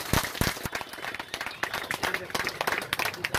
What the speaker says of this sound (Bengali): সকলকে বলবো একটু করতালির মাধ্যমে অভিনন্দন জানাই